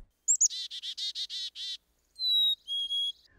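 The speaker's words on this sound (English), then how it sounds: "Another way you can identify black-capped chickadees is by their call." A black-capped chickadee calls: a rapid run of short, buzzy, repeated notes followed by a few clear, high whistled tones, fairly faint against silence with no talking.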